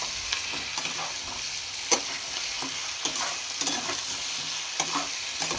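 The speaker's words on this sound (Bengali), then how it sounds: "আলুগুলো দিয়ে পেঁয়াজের সঙ্গে আবার একটুখানি ভাজা ভাজা করে নিই" Potatoes fry with onions in a pan on a steady, dense sizzle, while a spatula scrapes and taps now and then in an uneven rhythm, close and fairly loud throughout.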